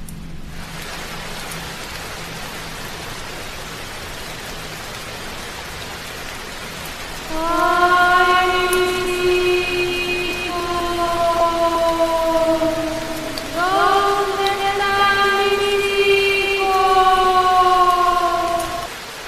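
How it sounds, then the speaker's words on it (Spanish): Steady rain hisses continuously. About a third of the way in, a loud, drawn-out wailing tone rises and falls over the downpour and keeps going to the end. "muy pronto lloverá"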